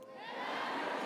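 A graduation convocation crowd in Saskatoon swells into cheering, a brief rising roar of many voices that holds loud and dense through the end.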